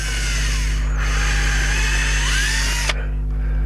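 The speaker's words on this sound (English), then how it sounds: "I'm just going to drill straight down through the pot, a little pilot hole" A power drill whines steadily at close range for about three seconds, its pitch shifting slightly as it bores a pilot hole down through a pot into timber, then cuts off abruptly.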